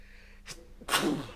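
A single sharp human sneeze, close and fairly loud, with a brief intake of breath just before it and a short noisy tail afterward, otherwise quiet.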